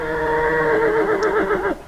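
Horse whinnying outdoors during a trailer-loading session: one loud, close, drawn-out neigh lasting nearly two seconds with a wavering, quavering pitch.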